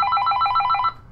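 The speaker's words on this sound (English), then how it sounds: "There's the phone." Telephone ringing in an indoor room: a clear, fairly loud electronic bell trill in rapid repeated bursts for about a second, then it stops abruptly, with no talking over it.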